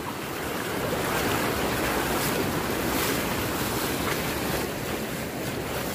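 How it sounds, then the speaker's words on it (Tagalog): Floodwater splashing and rushing steadily during a crossing, a loud continuous broadband wash with wind buffeting the microphone, no voices. "Yung pagaspas ng tubig."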